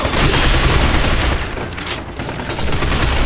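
Sniper gunfire and heavy firefight noise in the video game Binary Domain: a loud, dense barrage of shots and blasts filling the whole span with no pause.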